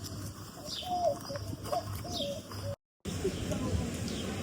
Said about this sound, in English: Oh, and a bird.